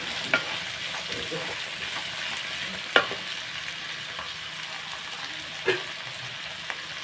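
Ivy gourd and raw mango fry in a covered pan, a steady, moderate sizzle broken by a few sharp clicks and taps of a utensil or lid.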